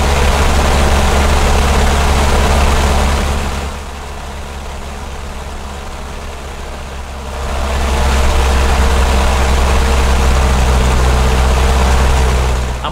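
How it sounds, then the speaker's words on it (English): A Cessna 152 engine runs up to about 2100 RPM, a loud, close, steady propeller drone that sags to a lower, quieter pitch midway and then climbs back to full power. "It's fairly simple to clean the spark plug by just adding power and letting the engine run to about 2100 RPM"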